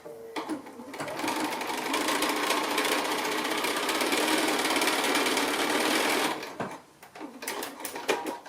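A sewing machine chain-pieces 2.5-inch quilt strips, running in a fast, steady mechanical rattle for several seconds before stopping, then giving a few short bursts of stitching.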